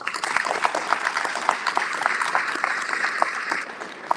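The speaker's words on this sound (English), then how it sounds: "can we give our panel a round of applause?" A crowd applauding a panel at EarthX, with clapping and a few sharper individual claps standing out, fairly close and sustained throughout.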